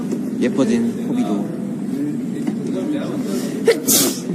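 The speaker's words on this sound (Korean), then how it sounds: "와, 재채기 한 거야?" A single sneeze from a band member, heard briefly near the end amid ongoing Korean chatter and background noise.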